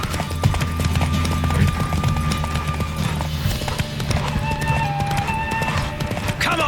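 Horse hooves gallop in a steady, loud clip-clop rhythm throughout The Witcher III: Wild Hunt, with occasional whinnies and game music tones layered over the running.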